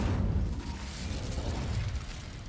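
A whooshing, roaring burst of fire from the Incendio spell in Hogwarts Legacy, a short, continuous rumbling flare with low crackle lasting a couple of seconds.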